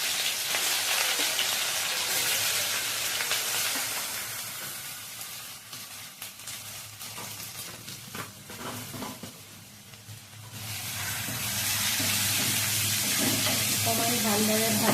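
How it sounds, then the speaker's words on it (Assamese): Onion with ginger-garlic paste frying in a pan for mutton curry, a dense steady sizzle with stirring that dips in the middle and swells back loud toward the end. "অকণমান ভালদৰে ভাজি ল'ম"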